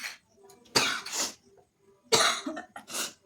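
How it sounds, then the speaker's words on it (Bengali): A person coughs from the sting of chili heat in two close, harsh bursts, each a cluster of rough coughs with a short pause between. "তো এখন হচ্ছে লঙ্কার ঝাঁজ, আমার কাশি হয়ে যাচ্ছে।"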